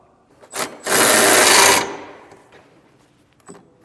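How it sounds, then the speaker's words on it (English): A power tool with a 3/4 inch socket tightens trailer hitch bolts on a 2024 Hyundai Ioniq 5, one loud whirring burst of about a second, then a few faint clicks. "go ahead with a 3/4 inch socket and tighten everything down."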